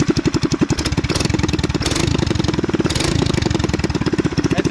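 A children's Chinese ATV fitted with a Predator 212 engine runs with its exhaust off, chugging loudly and unevenly. The pulses quicken and swell mid-clip, then settle back toward idle.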